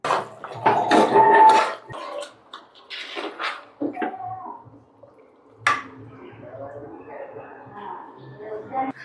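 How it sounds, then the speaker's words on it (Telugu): Dawat-style mutton curry stirred in a pot for a Dasara celebration. A spoon scrapes and clinks against the metal in short bursts while a person talks over it. "సరే ఒకసారి కలుపుదాం పదండి"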